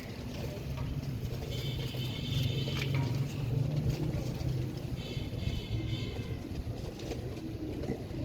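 Pigeons of the Royal Teddy breed coo low and steadily through a continuous bed of background hum and rumble, with faint chirps and mechanical noise mixed in.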